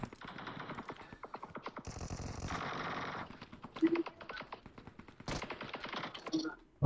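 Rapid automatic gunfire from PUBG Mobile in the Shadow Force mode, sharp repeated bursts of shots with short pauses, mixed with game effects and players chatting over it.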